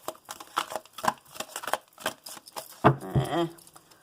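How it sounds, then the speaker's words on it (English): Tarot cards are shuffled by hand in a quick, papery patter of soft riffling taps, close and fairly quiet, ending with a brief burst of louder handling. "We shuffle, but here we go."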